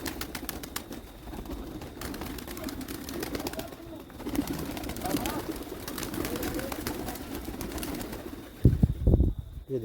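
Pigeons perched on a net coo softly and continuously beneath steady background noise and faint voices, with a louder rustle near the end.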